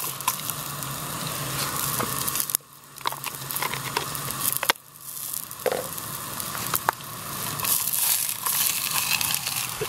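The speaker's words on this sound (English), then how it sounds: "Sizzle of the sausage." Steady crackling sizzle of sausages frying in a hot pan, with brief pops and shifts as the food moves, no talking.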